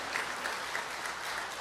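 Applause from a charity concert audience rings out in a short, steady wash of many hands clapping together at a moderate distance.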